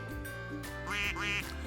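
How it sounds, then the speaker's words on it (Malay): A duck quacks twice in quick succession, loud and close, over a steady tonal background. "Betul, ini ialah itik."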